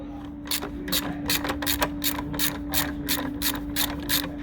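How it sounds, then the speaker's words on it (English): A socket ratchet with an extension loosens the 12mm battery bracket bolt on a 2015 Hyundai i30, clicking in a steady run of about a dozen close, crisp strokes over a faint constant hum. "the next thing what we're going to do is 12mm socket ratchet extension. Take the bracket off for the battery."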